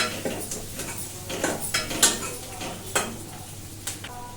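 Onions stirred and frying with turmeric in a pan on a stove, a spoon scraping and clinking against the pan in several separate strokes over a steady background sizzle; no one speaks.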